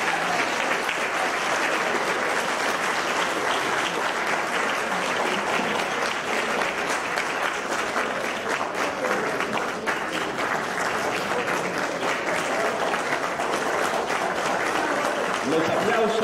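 A large lecture audience applauds at length after an intellectual's speech, a dense, steady roar of many hands clapping that stays loud and even for the whole stretch, with no break.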